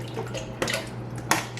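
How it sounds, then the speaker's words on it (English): Lemon juice pours into a container of water, a wet trickling and splashing with two brief sharper splashes or clinks against the container, close and fairly quiet with a low hum underneath. "I'm going to add some lemon juice to this,"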